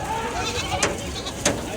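Goats bleat in a pen at a crowded livestock market before a festival, two short, fairly close bleats over a steady hum of background crowd noise.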